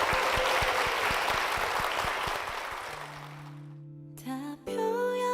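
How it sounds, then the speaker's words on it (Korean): Church congregation applauding loudly for a woman deacon, dense steady clapping that fades out after about three seconds into sustained organ or keyboard tones with a singing voice entering near the end. "우리 권사님께 힘찬 박수 부탁드립니다."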